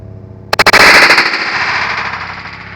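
An airsoft 12 gauge blank-fire tripwire mine set off outdoors: a rapid burst of sharp, loud cracks that merges into one big blast, followed by a long fading echo, with no talking.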